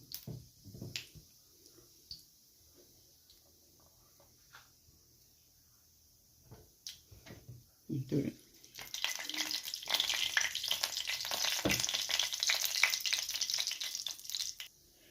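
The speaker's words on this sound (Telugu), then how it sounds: "ఆవాలు కొంచెం చిట్పట్లాడాలి." Mustard and cumin seeds splutter in hot oil, half a spoon of each. Quiet scattered clicks and faint sizzling for about eight seconds, then a loud steady crackling sizzle with sharp pops that carries on to the end.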